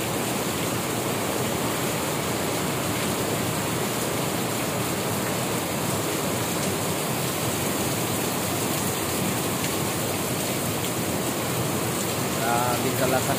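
Heavy rain pours steadily, a dense, unbroken hiss of water falling hard on surfaces nearby, loud and constant throughout.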